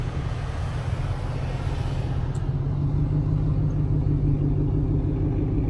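A black Ford Explorer rolls past outside a parked camper van, a steady low engine rumble and tire noise that holds at close range for the whole clip.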